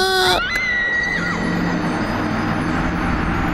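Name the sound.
Wilhelm scream sound effect from a video game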